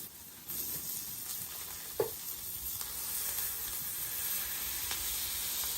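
Brisket smash burger patties fry on a hot griddle at around 500 to 575 degrees; a steady, close sizzle starts after a brief quieter moment and continues with a few sharp scraping clicks.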